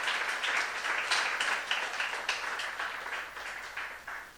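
A church youth congregation breaks into applause, an even patter of many hands clapping that holds steady for several seconds and gradually thins, with no voices.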